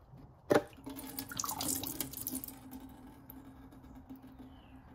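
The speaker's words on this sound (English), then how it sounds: "So fluid comes out, spills out a little bit, gives you a shower" Transmission fluid splashes and drips out of a Mercedes transmission during a fluid and strainer filter change. A sudden splash is followed by a few seconds of pattering, trickling liquid over a low steady hum.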